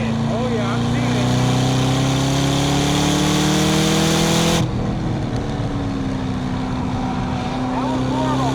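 A Chevy SS drones loudly on track at Sonoma Raceway, its exhaust holding a steady high-revving tone that drops sharply partway through on a lift-off and then pulls on again, with someone talking over it.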